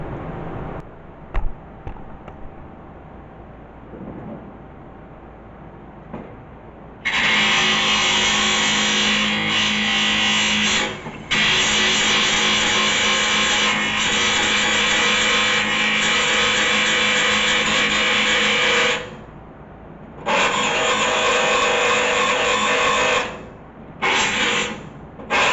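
A power tool grinds plug welds on a 1966 Mustang body. A harsh, loud, high whine runs in long sustained passes with short pauses between them, preceded by quieter handling noises and a low hum.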